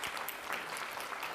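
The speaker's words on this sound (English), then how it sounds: "Huge round of applause." Brief burst of audience applause following a talk at an industry gathering, dense steady clapping from a crowd.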